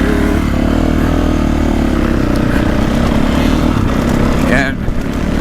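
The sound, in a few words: 2024.5 KTM 450 Factory Edition motocross bike riding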